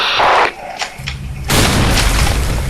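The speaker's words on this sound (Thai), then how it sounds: "ป้อมระเบิดไปแล้ว" A video game fort explodes in booming blasts close and loud, first a short blast then a bigger rumbling one with crackling debris trailing after.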